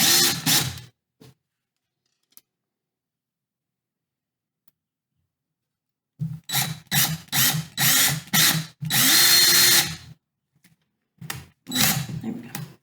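Power driver bursts as screws are driven through a pyrography canvas: a brief whir at the start, a long pause, then a run of short repeated drilling bursts with one longer sustained spin, close and fairly loud.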